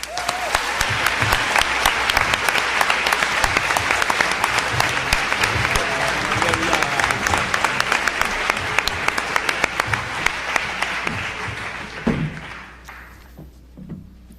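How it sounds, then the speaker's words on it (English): An audience at a Princeton hip-hop symposium claps loudly and continuously for about twelve seconds, a dense crackle of many hands with scattered sharper claps, before the applause thins out and fades. "Please give a round of applause for Maria McMath."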